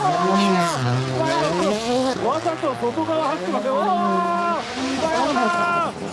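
A Toyota rally car on a demo run over dirt, grass and gravel slides through a turn with a loud engine rising and falling in pitch as it revs, close by, with excited talk over it.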